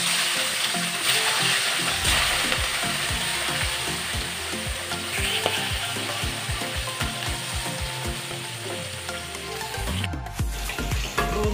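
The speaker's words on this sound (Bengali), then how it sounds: "এখন একটু ভেজে নেব।" Marinated rui fish pieces, coated with salt, turmeric and garlic paste, fry in hot oil in a pan for a korma, with steady loud sizzling and crackling throughout and a brief clatter near the end.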